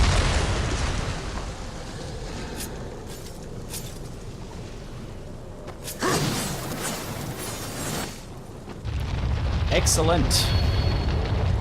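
Bomb blasts in the Darksiders video game, with several booming detonations, the largest near the middle and another rumbling surge near the end, while someone speaks over them.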